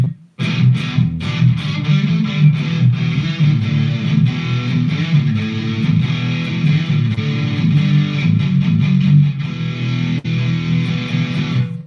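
Electric guitar played through a Headrush amp-modeler rig with reverb switched on: a dense, loud, sustained tone with steady picking runs for about twelve seconds, and no talking over it.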